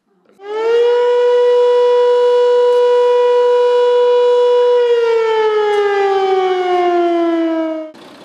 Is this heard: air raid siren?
yes